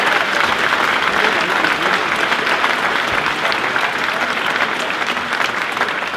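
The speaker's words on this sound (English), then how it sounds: "please give yourselves a fantastic round of applause." Sustained, dense applause from a large crowd at a boxing press conference, loud and steady throughout without pause.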